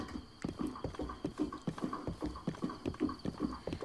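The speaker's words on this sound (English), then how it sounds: "I think my horse is getting pissed off at me." A horse gallops in Zelda: Breath of the Wild, a quick, even run of hoofbeats thudding in steady rhythm, close and clear with no talk over it.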